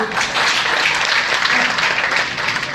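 Loud, dense applause from a crowd, steady clapping filling the whole stretch without a break.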